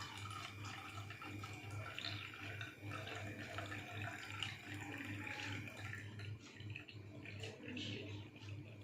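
Dirty cleaning water draining away outside into a drain beside a house, a steady, fairly quiet trickling flow like a running tap, continuous and without talk.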